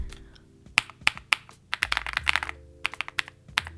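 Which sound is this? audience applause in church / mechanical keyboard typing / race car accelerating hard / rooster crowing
mechanical keyboard typing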